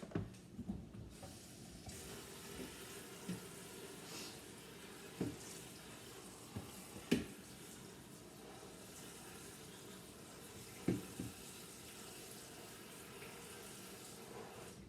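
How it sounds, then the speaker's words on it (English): Tap water running into a salad spinner filled with freshly harvested garden greens, a faint steady rush and trickle with occasional soft knocks and clunks. "Okay, so I put a good amount of water in with it."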